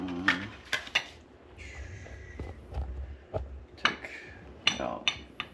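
A pan is handled on a kitchen stove before cooking Spanish mackerel, giving a run of sharp metallic clanks and clinks spaced irregularly over a low background hum.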